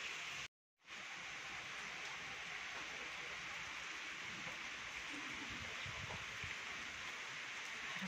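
Steady rain pours down in a dense, even hiss that runs almost unbroken, broken only by a brief gap near the start, with faint sounds of movement beneath it.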